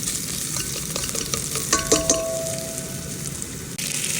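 Ginger and garlic frying in a pan for chicken tinola, a steady sizzle with a few spatula stirs and clinks against the pan partway through, close and without talk.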